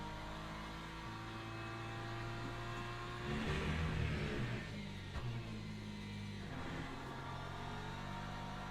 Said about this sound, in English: Here come the LMP2s already.